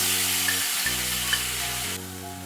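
Spice paste stirred and fried in oil in a pan: a continuous close hiss of sizzling with a few faint clicks of stirring, over a steady low electrical hum.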